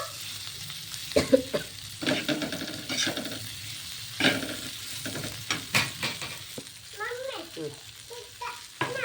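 Okra stir-fried in a pan for a Maharashtrian bhaji, with frying sizzle broken by irregular clattering stirs and scrapes up close, and a little talk in the background.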